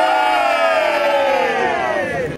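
A delighted crowd at a live a cappella show cheers and whoops together in one loud sustained roar that slowly falls in pitch and fades near the end.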